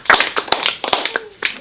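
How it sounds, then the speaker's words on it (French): A few people clap hands in a small room during a team-cohesion talk, short uneven bursts of claps close by, sparse and irregular rather than a full ovation. "Il faut vous applaudir."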